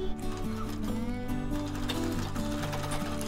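A sewing machine stitches cloth for practice, its motor and mechanism giving a steady whirring hum with a rapid mechanical rattle, close and continuous throughout.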